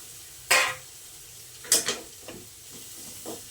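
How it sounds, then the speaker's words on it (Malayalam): Ground coconut paste for peera being fried with small onions in a pan, a steady faint sizzle under sharp scraping and clattering stirs of a spoon against the pan, a few distinct strokes spaced apart. "അപ്പം നമുക്ക് ഈ പീരയ്ക്കുള്ള അരപ്പ് അങ്ങോട്ട് ഇട്ട് കൊടുക്കാം"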